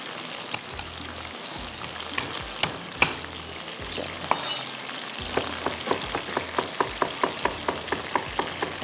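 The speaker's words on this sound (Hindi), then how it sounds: "चिकन हमारा फ्राई हो रहा है" Chicken frying in a pan while garlic is prepared, a steady close sizzle with crackling pops that grow denser and more rhythmic toward the end, no voices.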